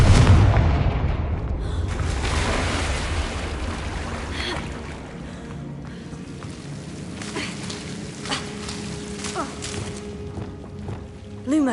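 The Confringo blasting spell in Hogwarts Legacy goes off with a loud, booming burst at the start, followed by a long rumbling decay with scattered crackles and a few brief tonal effects.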